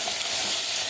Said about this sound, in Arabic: نقلبه بقى لحد ما تنشف ميته يعني